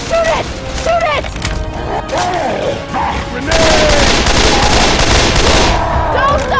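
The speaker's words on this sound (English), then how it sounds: "Shoot it! Shoot it!" Dense, loud gunfire rattles through a Left 4 Dead 2 zombie fight, with continuous rapid shots layered under excited shouting voices throughout.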